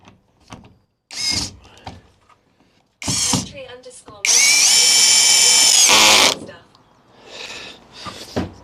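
A power drill driving screws while fixing a leak in a van conversion, one long, loud, steady whir lasting about two seconds, with a person talking before and after it.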